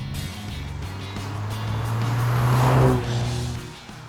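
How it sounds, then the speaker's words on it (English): A 2015-2019 Ford Mustang EcoBoost fitted with an ACCELATEC 2.25-inch axle-back exhaust drones with a deep, steady tone, swelling louder as revs rise near the middle and then easing off, with no voices. "It has an aftermarket tone to it. It is a deeper tone than the stock exhaust does."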